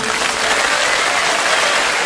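Wedding guests at a party applaud warmly, a dense, steady wash of many hands clapping together, loud and close, with no voices standing out.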